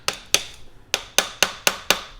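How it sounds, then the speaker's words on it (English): A small hammer gives seven light metallic taps to the drill chuck parts on a Craftsman 109 mini lathe. The sharp, close strikes come in an uneven rhythm over about two seconds with no talk. "I'm just going to take a teeny weeny little hammer"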